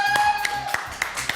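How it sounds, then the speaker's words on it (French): Scattered hand claps from a live audience greeting a comedian's entrance on a French stage show, a few sharp distinct claps over background music. "Je vous demande de l'applaudir à tout rompre"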